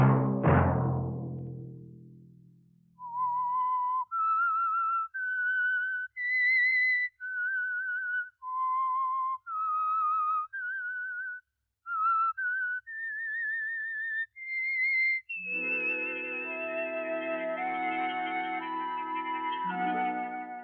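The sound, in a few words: whistled theme signal of The Whistler radio program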